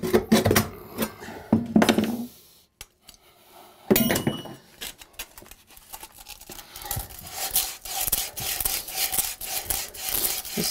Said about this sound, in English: we just take the hacksaw and cut that off